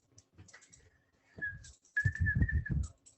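A person whistles a short, clear note, pauses, then holds a longer, steady, slightly wavering whistle over faint background rustling and knocks, in a quiet room.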